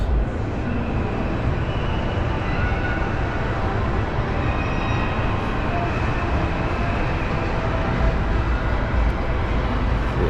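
El Loco roller coaster at the indoor Adventuredome in Las Vegas roars past as a steady, loud rumbling rush of wheels on track, blending with dense amusement-park ambience throughout.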